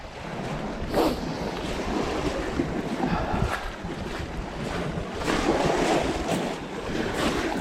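Sea waves wash steadily onto a beach along a shoreline used for lure fishing, a continuous rushing surf with gusts of wind buffeting the microphone and no voices.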